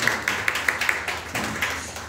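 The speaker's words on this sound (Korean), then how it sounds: "박수 한번 해주세요." A church congregation claps hands during a Sunday service, with a string of fairly even claps that rise and fall over a roomy background murmur.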